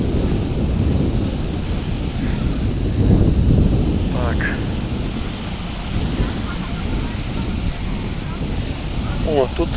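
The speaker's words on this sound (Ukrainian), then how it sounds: "О, тут вітерець, хвилі" Wind and sea waves at a Black Sea beach near Zaliznyi Port, rushing surf and gusting wind buffeting the microphone continuously, with a few faint distant bird chirps.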